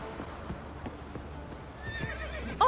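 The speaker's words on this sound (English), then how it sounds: "Oh, he's a horse!" A horse in The Witcher 3 clops its hooves softly and steadily under a low background hum, then lets out a short, sharp neigh at the very end.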